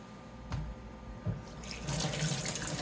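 Water runs from a kitchen tap while hands are washed during omelet cooking, a steady rushing stream that grows louder and fuller in the second half, with a couple of soft knocks early on.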